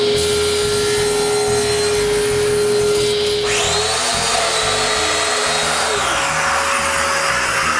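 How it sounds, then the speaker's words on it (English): A power saw rips through mahogany strips being cut for the dividers of a dresser face frame, a steady whining motor with the blade's pitch dropping sharply as it bites into the wood, loud and close with no talk. "I cut mahogany strip for the horizontal and vertical divider of the face frame"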